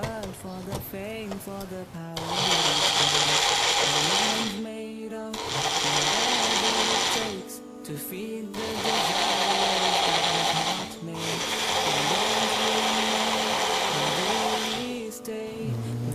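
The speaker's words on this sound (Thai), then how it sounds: "ทีนี้เราก็ นำ ทุกอย่างนะฮะ ใส่เข้าไปใน เครื่องปั่นนะฮะเพื่อที่จะทำการปั่น" A kitchen blender purees cooked ingredients for ivy gourd (tamlueng) soup, whirring loudly in three long bursts separated by short pauses, with people talking in the gaps.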